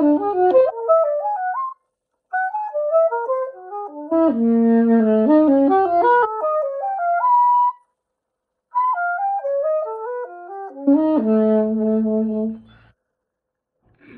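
Single-note melodic lines played on a pitched instrument, stepping up and down through flat-five and fifth intervals arranged in major thirds, in three phrases separated by short pauses with sustained low notes, clear and alone.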